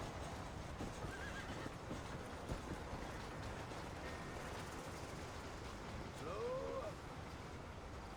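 A horse in the Red Dead Redemption video game gallops with steady hoofbeats over continuous outdoor noise, and a loud whinny rises near the end.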